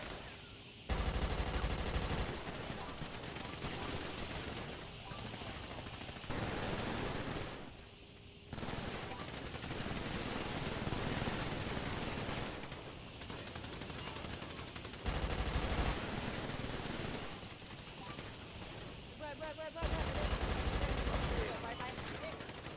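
Gunfire from GTA V played on a FiveM roleplay server, with bursts of shots recurring throughout over a dense, noisy game mix.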